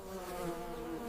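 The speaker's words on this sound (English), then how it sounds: "Flowers pop, bees show up." Bees swarm the blossoms of a cashew tree, giving a steady, close, continuous buzzing hum with no pauses and no voices over it.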